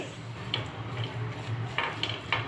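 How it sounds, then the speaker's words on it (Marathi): Radish being sautéed in a pan, with a faint low sizzle under a few light utensil scrapes and taps against the metal. "छान असं परतून घ्यायचं आहे मुळा चांगला थोडा शिजेस तोपर्यंत"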